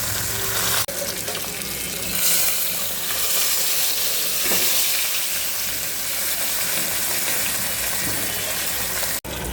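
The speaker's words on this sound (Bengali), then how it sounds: "মাছ ভেজে নেব এখন। আমি তেলটাকে ভালো করে গরম করে নিয়েছি ফ্রাই প্যানে।" Marinated fish fries in well-heated oil in a frying pan, giving a dense, steady hiss and sizzle that stays close and loud throughout, with brief clicks near the start and end and no talking.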